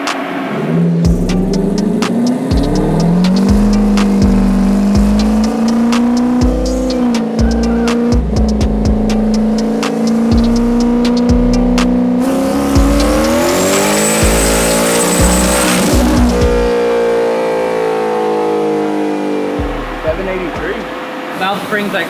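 Single-turbo Mustang engine revving hard on a dyno in sixth gear, a loud rising drone held for a long pull, then a turbo whistle and easing off as it winds down.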